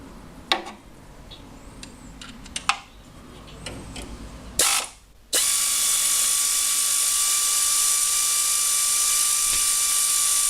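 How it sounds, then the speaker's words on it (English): An air ratchet undoes two stiff 3/8 UNF bolts on engine parts during a car restoration. A few short clicks and bursts come first, then a loud, steady pneumatic whirr runs on without a break. "The air ratchet is not especially quick as a tool. It rotates relatively slowly, but it's a lot easier than doing it by hand."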